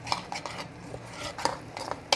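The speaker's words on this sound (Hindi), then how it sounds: "आप चम्मच के साथ दूध डालिए और इसको इस तरह से मिक्स कर दीजिए" A metal spoon clinks and scrapes against a bowl while milk is stirred into a cashew mixture for cashew rolls, giving quick irregular taps with a louder knock at the close, close-up and without talk.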